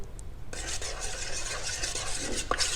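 A spoon stirs yeast into warm milk in a stand mixer's metal bowl for a Dunkirk-style galette des rois, a close, continuous swishing with light scraping and clinks against the bowl, with no talk.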